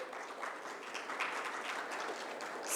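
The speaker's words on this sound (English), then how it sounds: "Can we have a big round of applause for Mr. Sachith?" An audience at a business conference applauds, a steady wash of clapping that is faint and distant and holds evenly throughout.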